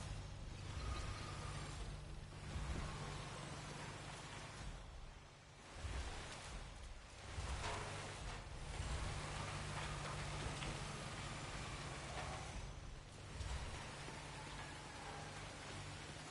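Steady rain pours down in the video game Hitman 3, a continuous hiss of drops on surfaces with a low ambient hum, easing briefly now and then before resuming.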